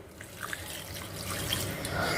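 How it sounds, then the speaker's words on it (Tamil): Water poured into a simmering crab pepper gravy masala, a steady close liquid splash and trickle lasting a couple of seconds, fairly quiet, with no talking. "இப்போ நான் கரெக்டாக 100 ml அளவுக்கு தண்ணி விடுறேன்."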